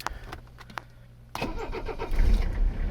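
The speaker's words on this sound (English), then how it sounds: "We'll see if she cranks now." Mercedes 300CD diesel being cranked: a few faint clicks and quiet moments, then the engine catches and fires up loudly, settling into a rough, rumbling run close by.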